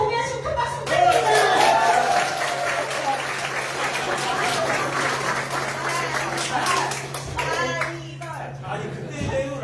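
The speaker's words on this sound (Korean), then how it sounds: "큰 박수 부탁드립니다" A crowd claps in applause at a Democratic Party members' meeting in a Jeju party meeting room, steady clapping lasting several seconds with voices and laughter over it.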